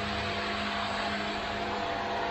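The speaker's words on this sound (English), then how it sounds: "the Milwaukee right angle die grinder with some buff pads" Milwaukee right angle die grinder spinning buff pads against aluminium edges on a toy hauler deck frame, a steady high-pitched whine with a constant motor hum, close and continuous throughout.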